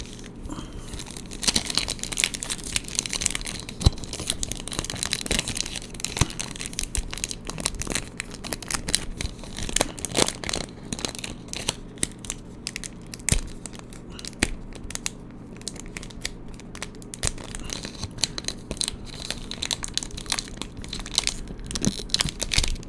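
Plastic Pokémon card packaging being torn open by hand without scissors, with repeated crinkling, tearing and crunching of the wrapper, close and steady throughout with no voice.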